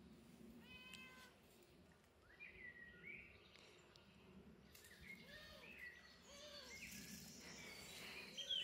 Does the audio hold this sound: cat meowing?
yes